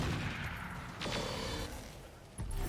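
Weapons fire from mechs in the RogueTech BattleTech game, a dense, continuous barrage of booming shots and impacts with bursts around the middle and a fresh blast near the end.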